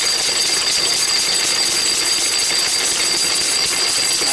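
A Lister D engine drives a paint mill grinding chalk, a loud, steady, rapid mechanical chatter and clatter that runs without pause.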